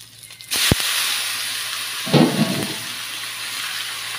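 Pork hits a hot pan over high flame for dinuguan, bursting into a loud hiss that settles into steady frying, followed by a second surge of sizzling a moment later, close up with no talk.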